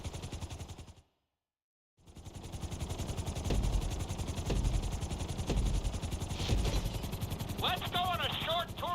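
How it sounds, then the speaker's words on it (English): A video game helicopter flies over a city with a rapid, steady rotor chop that fills the clip after a brief silent gap, with sharp clanks and a short warbling electronic tone near the end. "we're gonna put you in a helicopter for this lesson"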